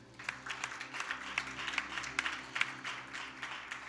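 Church congregation applauding to acclaim the Lord, a sustained round of crisp clapping from many hands over a low steady hum in the hall.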